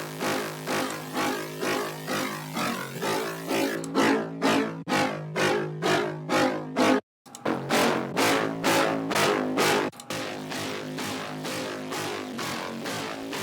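A dry, buzzy square-wave synthesizer tone without effects plays a rhythmic pulsing pattern of repeated notes, steady and moderately loud, with a brief gap partway through.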